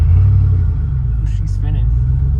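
An all-black Cadillac's engine gives a steady, close, low rumble, with brief voices in the background over it.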